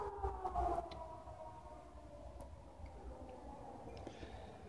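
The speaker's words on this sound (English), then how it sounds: "we got some sirens going by messing up my video." Siren of an emergency vehicle passing outdoors, a faint wavering wail that is strongest at the start and fades as it moves off.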